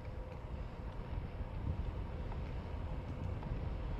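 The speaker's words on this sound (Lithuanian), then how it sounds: "Vėjas va toks iš priekio" Steady headwind buffets a car microphone while driving through a flat valley, a continuous low roaring rumble of wind noise that stays fairly constant and moderately quiet throughout, with no talking.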